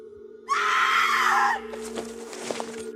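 A loud, shrill scream lasting about a second, then quieter background noise with a few soft knocks.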